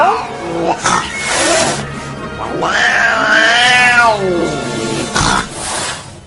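A cat meows and caterwauls loudly and close by in a long, drawn-out, wavering yowl with shorter cries around it, while a person's voice is heard faintly in the background.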